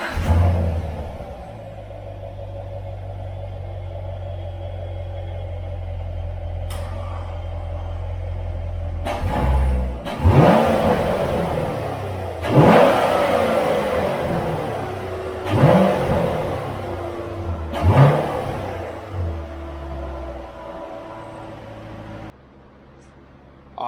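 A C7 Corvette's V8 fitted with factory and then aftermarket Injen cold air intakes idles, then barks through several sharp revs in a row, each blip rising and falling back to a rumbling idle, close and loud with no talking.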